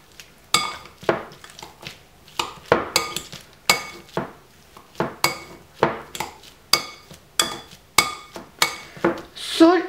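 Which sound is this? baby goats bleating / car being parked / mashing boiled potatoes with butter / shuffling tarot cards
mashing boiled potatoes with butter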